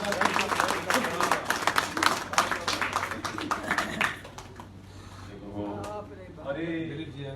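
Audience at a live Holi comedy show clapping, a dense burst of applause for several seconds that fades out, followed by someone speaking.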